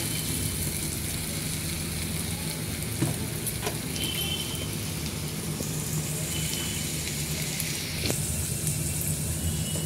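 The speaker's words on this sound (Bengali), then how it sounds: "এখানে দেখো আদা রসুনের পেস্ট করা ছিল, এটা দিয়ে দিচ্ছি" Ginger-garlic paste sizzles steadily in a hot pan, a continuous close frying hiss with a few faint clinks, no talking.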